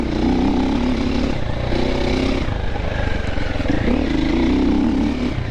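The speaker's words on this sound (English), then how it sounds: "I don't know if you can hear the engine lugging." A 2026 Triumph TF450C off-road motorcycle engine lugging at low revs in third gear, a steady deep droning thrum with slight rises and dips in pitch, close and continuous with no talk.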